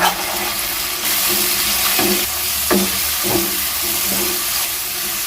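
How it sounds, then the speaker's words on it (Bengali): Masala for potol chingri (pointed gourd and prawn curry) frying in a pan, with a steady sizzling hiss and several scraping strokes of a spatula as it is stirred, close and alone. "সমস্ত উপকরণগুলো আমি খুন্তির সাহায্যে খুব ভালো করে নেড়ে ছেড়ে মিশিয়ে নিয়েছি"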